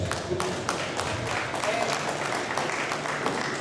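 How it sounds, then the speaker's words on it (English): Audience applause at an awards ceremony for a plaque presentation, a steady wash of clapping filling the room while a voice talks briefly over it. "Please give them a round of applause."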